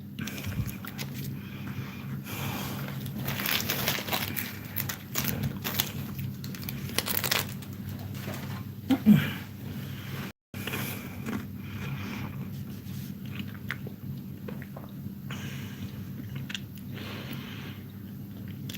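Someone munches and chews Kit Kat chocolate close to the microphone, with soft crinkly crunching and chewing that goes on steadily for a long stretch over a faint background hum.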